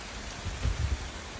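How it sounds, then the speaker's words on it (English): Rain starting to fall outdoors just after an evening show, a soft steady hiss with a few denser patters of drops hitting nearby surfaces, heard alone. "It just started raining."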